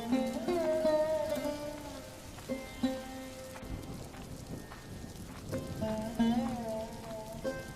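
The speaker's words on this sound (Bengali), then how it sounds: "শীতের সময় বৃষ্টি আমি কোনোদিন দেখিনি বাবা।" Winter rain falls in a steady patter on surfaces, under a layer of tonal background music, with no one talking.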